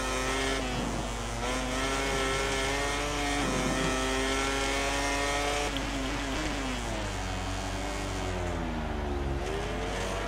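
Motorcycle engine in the MotoGP 18 racing video game: a loud, continuous whine that rises and falls in pitch as the bike speeds up and brakes through gears, with no pauses.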